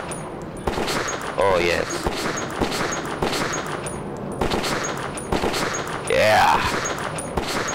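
Rapid bursts of gunfire from the video game Metro 2033, loud and continuous in two stretches, with a player talking over the shots.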